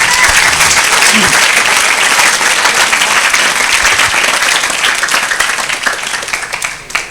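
A large crowd at an Islamic boarding school sermon breaks into loud, sustained clapping that stays full and dense for several seconds, then gradually thins and fades toward the end.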